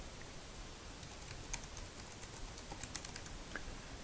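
A username is typed on a computer keyboard as a quiet, irregular patter of key clicks over a faint background hiss, with no voices.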